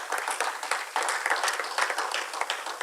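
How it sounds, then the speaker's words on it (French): An audience at a French-speaking church financial literacy event applauds the panelists, with continuous, dense clapping throughout the short stretch and no break. "Est-ce qu'on peut applaudir les panélistes?"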